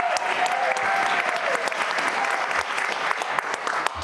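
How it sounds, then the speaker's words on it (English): An audience at a school district workshop applauds a fifth-grade student speaker, sustained even clapping from many hands filling the room without pause. "let's give a big round of applause for our second student speaker, Zoe Lynn"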